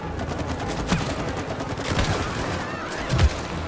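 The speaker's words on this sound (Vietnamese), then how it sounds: "Ôi, bắn nhau ầm như chín cháo." Rapid, continuous gunfire fills a battle in the co-op game It Takes Two against a robot queen bee, a dense crackling barrage with a few sharper shots standing out, no voices.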